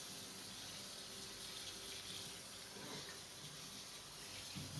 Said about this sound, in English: So as we rinse, we'll see the color get lighter and lighter